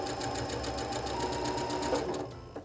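Baby Lock M7 sewing machine stitching a seam on a table runner quilt block, a steady close whir of rapid needle strokes that runs without pause and cuts off near the end.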